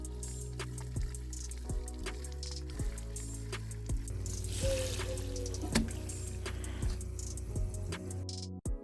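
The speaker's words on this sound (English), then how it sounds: "I'm going to give it a good rinse to get all the dirt out of the tank" Water rinsing dirt out of a small terrarium tank, a running, splashing trickle with wet squishy sloshes and small ticking knocks against the glass, close and moderately quiet, with no talk.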